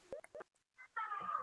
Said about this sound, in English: If I hear one more meow